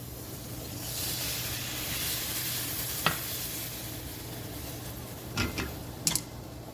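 Garlic and butter sizzle gently in a pan on low heat, a soft, steady frying hiss with a few light clicks of a utensil against the pan.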